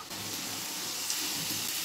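Cooked chicken reheating in a frying pan for an egg chicken roll gives a steady, even sizzle and hiss throughout, with no voices.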